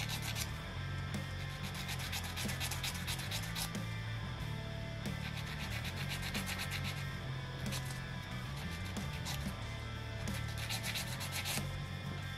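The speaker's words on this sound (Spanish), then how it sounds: "Si ves que te cuesta insertarla, puedes lijarla un poco." Continuous, steady rubbing of sandpaper on a small wooden 3D puzzle piece from a plesiosaur model, close and fairly loud, with dense scratchy strokes throughout and no talking.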